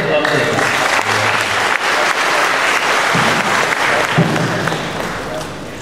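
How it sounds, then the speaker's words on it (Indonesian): Audience applause at a university dialogue event with a government minister, a loud, steady burst of clapping from a large crowd in a hall that holds throughout. "Kita awali biar gembira itu ya dengan applause yang meriah"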